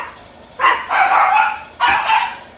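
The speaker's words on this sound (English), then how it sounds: "Whoops, we got dogs." A dog barks loudly and close by, a few sharp barks in quick succession with a short pause between them.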